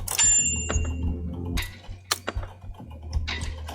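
Keys clatter on a keyboard in the typing game Final Sentence, up close and alone. Irregular clicks and taps come in short bursts, with a brief bright chime near the start.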